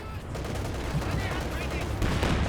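Battle gunfire in the Company of Heroes 2 strategy game, a dense rattle of rifle and machine-gun bursts with explosions, continuous and fairly loud through the moment.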